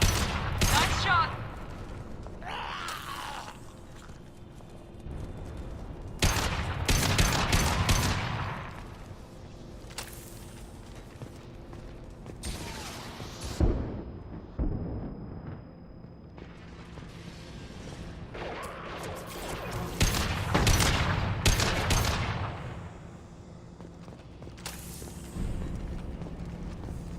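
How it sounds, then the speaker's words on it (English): Bursts of gunfire from the Mass Effect 2 video game erupt in several loud clusters between quieter stretches of game ambience, with sharp shots and booming impacts. "Firing an impact shot."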